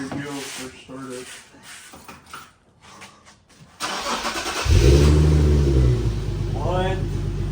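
Infiniti Q50 fitted with an Ark Performance exhaust cranks and fires, then settles into a loud, deep idle rumble with a short rev, close to the microphone, after someone speaks over handling noises.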